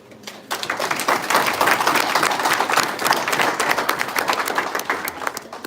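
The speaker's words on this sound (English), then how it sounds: "Can you clap for yourself?" A large audience at an engineering day event breaks into applause, starting abruptly and swelling into sustained, dense clapping from many hands that stays loud and full throughout, with a faint crowd murmur beneath.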